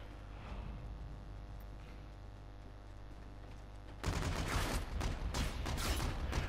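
Gunfire and explosions in Call of Duty: Infinite Warfare multiplayer: a steady rumbling din, then a sudden jump into dense, loud volleys of rapid shots and blasts, with no talking.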